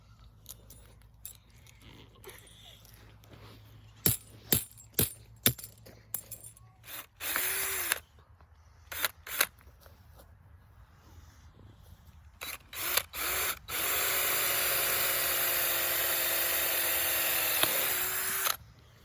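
A drill boring a hole through wood for an eye bolt on a tomato trellis build comes in as short bursts with clicks and knocks between them, then a long, steady, loud whir of the bit cutting through.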